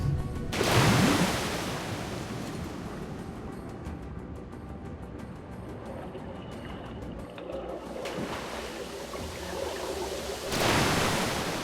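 Rushing river water in Metro Last Light Redux, a steady broadband wash of surging current that swells loudly at the start and again near the end, with a constant roar in between and no talking.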